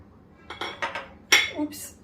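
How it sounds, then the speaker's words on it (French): Dry ingredients, sugar with ground almonds and sesame seeds, being mixed in a bowl, giving a few separate clinks and scrapes of utensil against the dish, close and fairly quiet. "Je mélange le sucre."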